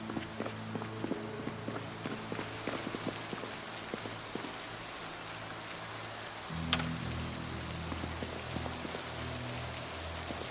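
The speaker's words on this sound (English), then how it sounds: "thank goodness it's raining" Steady rain patters in the video game Project Zomboid, a soft continuous hiss of drops with faint low hum and scattered small ticks, no voices.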